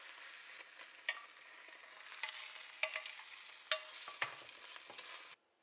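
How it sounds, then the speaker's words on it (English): Breaded tonkatsu pork cutlets frying in hot oil, giving a steady close sizzle with occasional sharper crackles and pops, then cutting off abruptly, with no voices. "Fry tonkatsu until golden."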